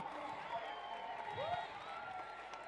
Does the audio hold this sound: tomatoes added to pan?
no